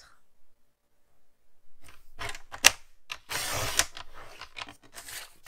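Scissors cut a piece of white paper for a handmade card. After a near-silent start, a run of loud, close, crisp snips and rustles follows.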